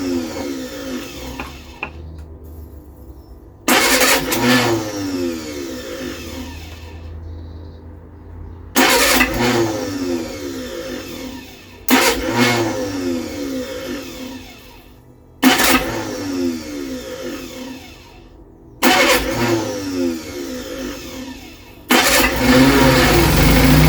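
A rebuilt Reliant Supervan engine cranks close by in about six separate bursts of starter whirring, each broken by short pauses, and never catches or runs.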